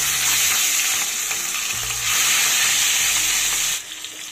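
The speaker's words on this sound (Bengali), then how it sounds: "এবার আমি মাছগুলো একে একে তেলে দিয়ে দেব।" Fish pieces sizzle loudly in very hot mustard oil in a wok, a dense, close hiss that swells midway and drops off sharply near the end, with no talking.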